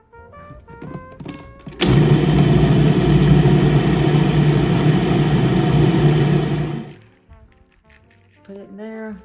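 A food processor whirs loudly and steadily for about five seconds as it spins chicken salad ingredients, then stops, with people talking briefly before and after it runs.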